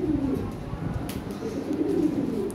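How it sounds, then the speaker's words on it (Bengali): Pigeons coo repeatedly in soft, low, rolling phrases, close by, with faint background noise and occasional light rustling. "ভালো কবুতর এটা।"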